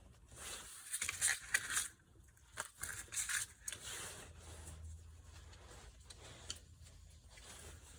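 A cello endpin is rubbed with 220 grit sandpaper in uneven bursts of dry scratchy strokes, close and fairly quiet, pausing between passes, with no talk.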